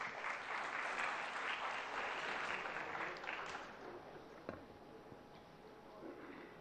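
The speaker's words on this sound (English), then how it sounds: "Let's welcome him with a round of applause." A gathering at a university literary festival applauds as the vice chancellor is welcomed, with dense sustained clapping from a large audience that slowly thins and fades toward the end.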